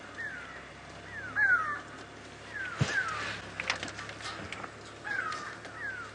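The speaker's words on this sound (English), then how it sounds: "Why are those go-away birds calling?" Several go-away birds give harsh, nasal calls in short bursts, some close and some farther off, over a quiet outdoor background during a safari drive at Karula.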